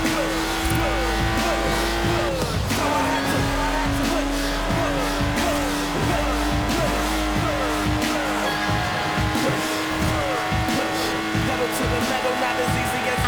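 A Lotus Exige in Forza Horizon 4 drives hard, its engine droning loud and steady with rising and falling revs, tire squeal, and skidding running throughout.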